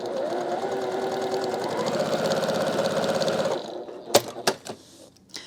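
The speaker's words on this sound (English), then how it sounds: "so I'm going to slide that under and just start stitching." A sewing machine stitches pieced fabric in a steady, rapid whirring run that stops after about three and a half seconds, followed by a few sharp clicks and knocks close by.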